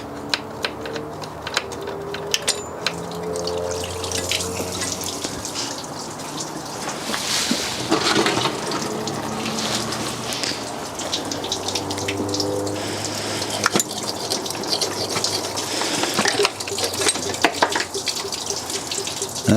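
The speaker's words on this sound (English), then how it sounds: "it is going to start leaking quite a lot from the cylinder head" Coolant draining out of a diesel engine's cylinder head in two places, a steady close splashing and trickling of liquid with scattered clicks and knocks from work around the engine.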